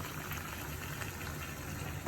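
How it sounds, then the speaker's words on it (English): Water is poured steadily into a cooking pan while making meat biryani, a continuous close, even splashing gush with no one speaking. "So it's a 1 cup of water I'm gonna add in this pan."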